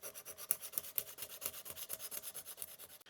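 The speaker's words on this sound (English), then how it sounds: "use a bit of sandpaper that comes with the system and just get these fret ends" Sandpaper rubbed back and forth over guitar fret ends and a binding corner in quick, even rasping strokes, close and quiet, stopping abruptly at the end.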